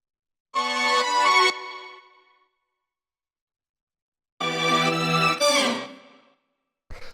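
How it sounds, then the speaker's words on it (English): Two bright disco string stab samples ring out alone, each a short loud chord with a quick decaying tail, separated by silence, with a faint third hit clipped at the very end. "After that, we have the string stabs, which sound like this."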